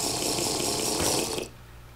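Water pouring steadily from a bottle in a video game, a continuous splashing gush for about a second and a half that then cuts off abruptly, with no talking.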